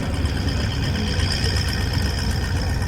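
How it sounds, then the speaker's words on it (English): Gasoline engine of an M113 armored personnel carrier running steadily, a loud continuous low rumble with a constant drone and no voices. "And these first were gasoline engines."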